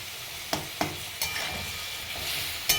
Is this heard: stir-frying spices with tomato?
yes